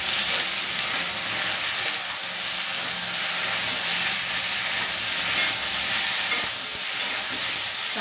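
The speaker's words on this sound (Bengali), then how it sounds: "এই মশলাগুলো ভালোভাবে এবার কষিয়ে নেব।" Spices with tomato and ginger-garlic paste fry in a hot pan, giving a steady, dense sizzle with bursts of stirring throughout, close and alone without any talk.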